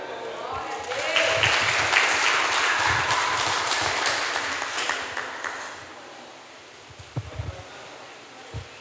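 A church congregation applauds in a steady mass of clapping that swells early, holds for several seconds, then fades out, leaving a few scattered taps and faint bumps near the end.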